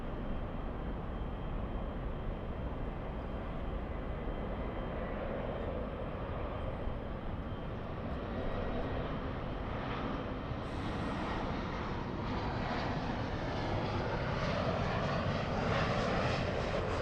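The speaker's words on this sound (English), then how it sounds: "Looks like the 787 is already clear for takeoff" Boeing 787 jet taking off from a runway at LAX, heard at a distance as a steady broad engine roar that grows slightly louder toward the end, with no talk over it.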